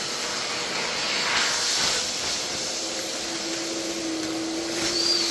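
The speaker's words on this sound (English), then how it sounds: "So basically, get your Hoover in the top." A Hoover vacuum cleaner sucking fresh oak sawdust, a steady close hiss and airy roar with a faint whine rising near the end, running alone without talk.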